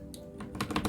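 Quick typing on a pink Huo Ji CQ84 mechanical keyboard with brown switches, a brief run of close, soft clacky keystrokes over faint background hum.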